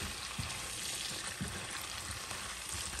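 A shrimp sauce of mayonnaise and chili sauce simmers in a pan with a dense, even sizzle and faint low bubbling pops.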